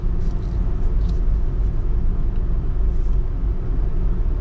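A VE Commodore ute on a race track gives a loud, continuous, rumbling engine drone from inside the cabin, steady throughout with some faint rattles on top.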